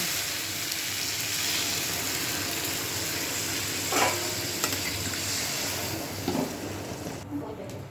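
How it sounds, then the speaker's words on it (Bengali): A frying spice mix for an egg and paneer curry sizzles steadily in a pan, close by. Water is poured in and brief splashing hisses flare up near the middle and toward the end. "মশলা হয়ে গেছে এবার আমি পরিমাণ মতন জল দিয়ে দেব"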